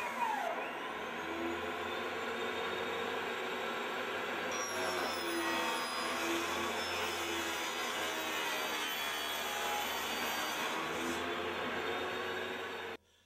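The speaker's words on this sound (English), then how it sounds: "after I've made my cut on the table saw" A table saw whines steadily through a long cut in an 8-ply drum shell, a loud sustained motor roar that stops abruptly at the end.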